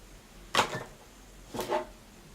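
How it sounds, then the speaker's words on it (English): A home radiator switching on indoors: two brief clanking, hissing bursts about a second apart, moderately loud against a quiet room. "It's my radiator. It just turned on."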